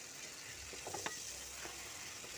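Steady, quiet sizzling of food frying in oil, with a few soft scraping stirs in the middle.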